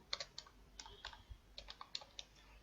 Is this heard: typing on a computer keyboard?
yes